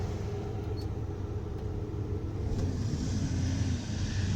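A Chevrolet Suburban squarebody with a 5-speed NV4500 manual gearbox and 4WD, heard from inside while driving: steady low engine drone and road rumble, slightly rising in the second half, with no talk.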